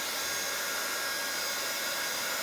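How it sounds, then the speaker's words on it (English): A heat gun blows a steady, loud, even rush of hot air over a cheese board for the whole stretch, close and unbroken with no talk. "And then I think I'm going to use the heat gun. And we're going to blow this around."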